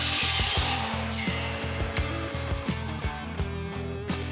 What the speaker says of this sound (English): we'll kick things off by cutting a couple of pieces of 2x1 rectangular tubing